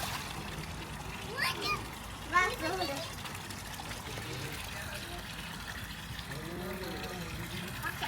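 Someone bathing in water at a three-storey villa in Shah Alam, with a couple of brief splashes and trickling water amid a continuous watery background while people talk nearby.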